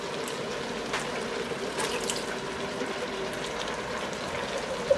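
Water pours into a pot holding leftover tomato in a home kitchen, a steady close splashing trickle heard alone with no talk.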